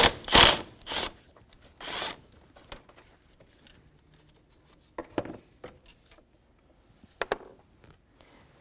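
A 10mm socket and ratchet loosening a bolt behind the front grille of a 2009–2014 Nissan Maxima, a few sharp rasping bursts up front, then scattered softer clicks and scrapes with quiet gaps between.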